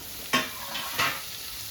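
Tomato and curry leaves frying in a pan for a green chilli chicken dish, a soft sizzle broken by two quick stirring scrapes, close and brief.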